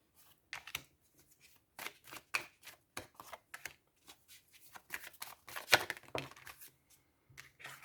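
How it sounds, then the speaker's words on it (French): Tarot cards shuffled for a nine-card spread, a run of quick papery riffles and soft slaps in uneven bursts, close and fairly quiet, with no voice over it. "on va faire le tirage en 9 cartes"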